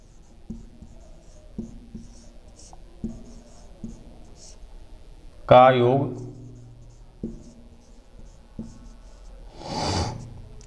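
Pen or chalk writing out a maths sum in a class 10 polynomials lesson, a few soft scratching strokes and taps spread through a quiet room, with a brief burst of speech and a breathy noise.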